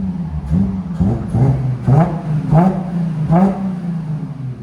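A 2016 Audi A7 with a 3.0L supercharged V6, Borla ProXS exhaust, muffler delete and cold air intake revs repeatedly: five sharp, loud throttle blips rise over a steady idle rumble, spaced roughly a second apart.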